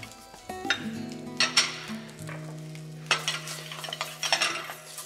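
Diced Zamora chorizo and ham sizzle in olive oil in a pan, a soft frying hiss broken by close stirring scrapes and light utensil clinks against the pan.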